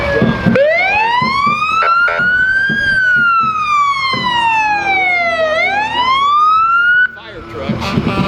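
Fire truck sirens wail loudly through a Christmas parade, a rising and falling tone sweeping up and down continuously for several seconds, close by and dominating, with crowd noise underneath.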